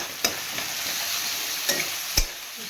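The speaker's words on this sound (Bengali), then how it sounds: "রসুন আদাও দিয়ে দিলাম আদাও দিয়ে দিলাম এবারে আমি ভালো করে কষে নেব" Garlic and ginger sautéing in a pan, a soft steady sizzle broken by three sharp spoon knocks against the pan, with no talk.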